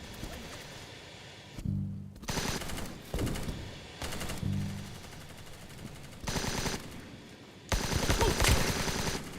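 Machine gun fire in a multiplayer shooter game, rapid loud bursts of automatic shots repeating in several separate volleys with brief gaps, the last burst the heaviest.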